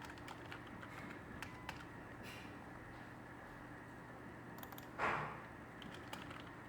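Sparse, faint keystrokes on a computer keyboard while entering an SMBIOS value into a macOS Sonoma boot configuration; a few soft clicks come spaced apart over a quiet background, with no talking.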